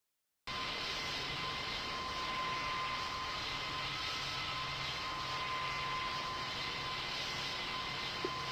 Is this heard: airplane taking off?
yes